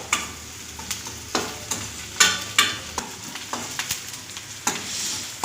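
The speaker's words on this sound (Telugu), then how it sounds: "పచ్చిమిర్చి కొన్ని పచ్చిమిర్చి అన్నమాట వేసి కలిపేసుకున్నాను బాగా" Green chillies are stirred into a sizzling egg masala curry in a pan, giving close, repeated scraping strokes of a spoon over a steady frying hiss.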